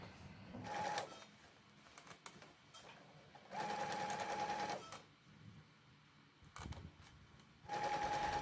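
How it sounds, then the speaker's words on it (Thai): A sewing machine stitches around the edge of a handmade fabric bag, running in three loud bursts of steady whirring with quieter pauses of handling between them. "เราก็เย็บรอบนี้เลยค่ะ เย็บรอบนี้ให้หมดเลยนะคะ"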